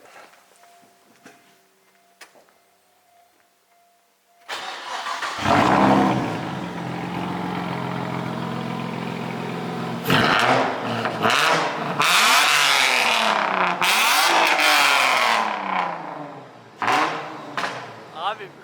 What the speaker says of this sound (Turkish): bir marş yapalım ya. Exo sesini bir duyalım böyle.